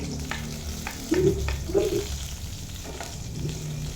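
Garlic frying in a pan at the start of cooking ampalaya, a steady close sizzle running throughout with a few light stirring knocks and scrapes and a brief voice murmuring over it.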